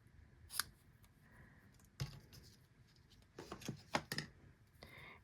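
Scissors trimming the tails of a ribbon during paper crafting: a few quiet, sharp snips spaced apart, with a tight cluster of cuts near the end, close to the microphone in a quiet room.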